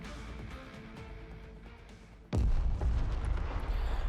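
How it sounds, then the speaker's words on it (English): A loud, thunderous explosion in the video game Girls' Frontline 2: Exilium bursts in abruptly after a stretch of quieter game sound, then rumbles on as a sustained heavy roar. "A thunderous explosion erupts from the other end of the call."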